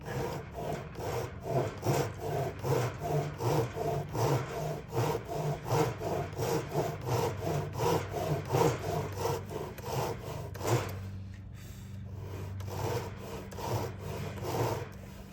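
A hand saw cuts a heel side slot in wood guided by a luthier's guillotine jig, giving steady rhythmic rasping strokes up close, with a brief pause near the end before the sawing resumes.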